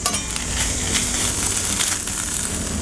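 Turkey sizzles steadily on a Blackstone flat-top griddle, a loud, continuous close frying hiss with no talking over it.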